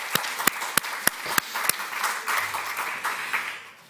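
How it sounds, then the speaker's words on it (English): At a medical spring school, a few sharp, separate handclaps ring out at first, then the audience joins in and the applause thickens into a fuller, continuous patter. "let's give a very big applause to"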